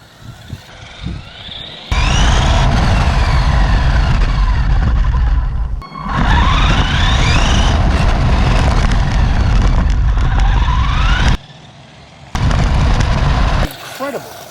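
A Vatos Spirit 1:16 scale RC truck drives hard, its electric motor whining and rising and falling in pitch with each acceleration. Loud, rough bursts are broken by brief pauses.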